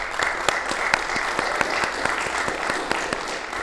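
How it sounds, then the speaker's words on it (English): Applause from the audience at a 2024 school district candidates forum, a moderate patter of clapping with a few sharper individual claps standing out, steady for a few seconds. "If we could give them a round of applause."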